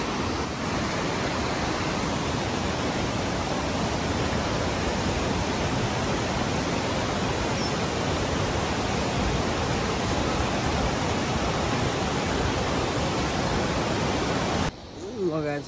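A river flowing beneath a footbridge on a village trail, a dense, even rush of water that fills the whole stretch without pause, loud and close, ending with a brief shuffle.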